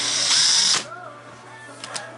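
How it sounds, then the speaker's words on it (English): A power drill whines steadily and loudly for under a second during weekend boat work aboard a Skipjack sailboat, then stops abruptly, leaving a low hum and a couple of faint clicks. "this baby is hot, so the drill's still working"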